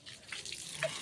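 A faucet runs steadily while hands are washed, a soft continuous splash of water close by with light dripping and no talking.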